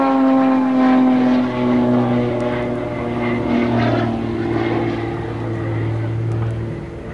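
Extra 300L aerobatic airplane with a 300 horsepower engine flying maneuvers at an air show, its propeller drone loud and steady with shifting pitch as it climbs and loops, continuous throughout.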